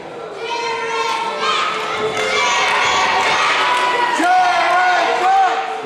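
Wrestling crowd cheering and shouting loudly and continuously during a match, many high excited voices including children, with a commentator talking over the noise throughout.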